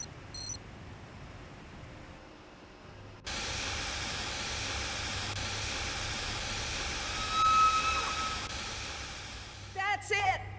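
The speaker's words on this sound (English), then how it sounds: "The steam has been vented." Steam vents from industrial machinery in Jurassic Park: The Game, a loud, sustained hiss that bursts on suddenly after a quiet stretch and runs steadily for several seconds before fading out.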